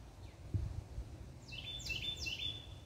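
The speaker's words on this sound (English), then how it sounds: "Can you hear those birds?" Small birds sing in an outdoor home garden, a few faint high chirps and short trills repeating in the background over low rustling ambient noise.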